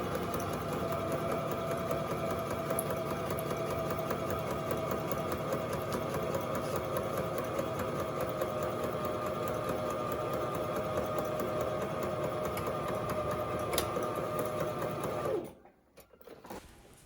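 A sewing machine running a straight stitch in a long continuous rapid mechanical whir, close and steady, stopping abruptly near the end.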